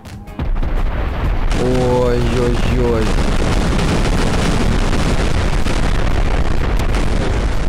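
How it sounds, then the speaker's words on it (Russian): Explosions blanket an island in Garry's Mod, a loud, dense barrage of booms and bursts that sustains for several seconds after a brief quiet start, with a voice exclaiming over the din. "Посмотрите, как этот остров покрывается красивыми взрывами."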